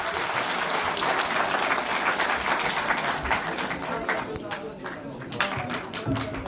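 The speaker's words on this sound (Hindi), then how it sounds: "जोरदार तालियां हो जाए।" Loud, sustained audience applause at a two-day outreach programme in Kargil, dense clapping that tapers off toward the end, with a voice speaking faintly beneath it.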